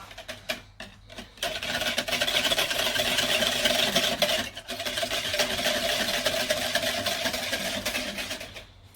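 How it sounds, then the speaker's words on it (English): Beetroot and carrot juice for a Jamaican drink is whisked by hand with a whisk, giving a fast, steady, scraping rhythm that runs loud and almost unbroken for about nine seconds after a few short stops at the start. "So now we're gonna whisk it."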